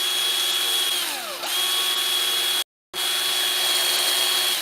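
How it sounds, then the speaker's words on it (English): A handheld drill motor whines at a steady high pitch close up, dips briefly as it bogs down, then stops for a moment and spins back up to full speed. "And you can actually drill it with a drill motor."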